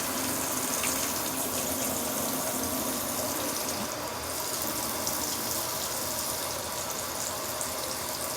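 Water runs steadily into a portable washing machine tub, a continuous broadband rush and gush that stays even and close throughout, with no voices over it.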